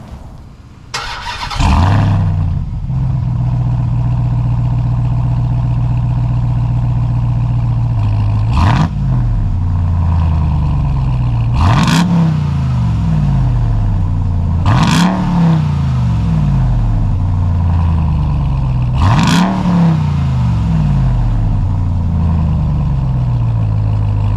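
A RAM TRX pickup truck's engine fires up and settles into a loud, deep idle, then is revved hard four times in a row, each sharp surge climbing quickly before dropping back, with no talking.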